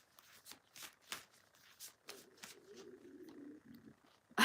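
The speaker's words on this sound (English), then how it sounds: "let me shuffle a bit more" Cards are riffled and shuffled in quick soft bursts, close and quiet, followed by a brief low rumble.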